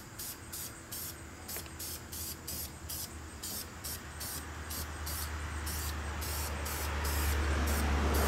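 An aerosol can sprays engine paint onto a car wheel in a series of short, hissing bursts with brief pauses between them, close by, over a low steady background hum.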